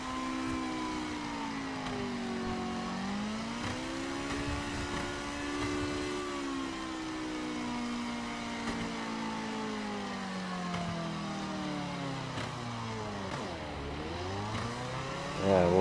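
A BMW M4 engine in The Crew video game, a smooth harmonic drone that rises and falls as the car accelerates and shifts, with a deep dip and rev near the end, steady and alone.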